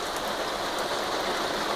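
Rain falls steadily on surfaces outdoors, a dense close hiss of drops spread evenly throughout with no talking.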